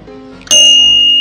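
A bell hung as a doorbell at a house entrance strikes once, a sudden bright clang whose metallic ring sustains loudly to the end, over a faint steady hum beforehand.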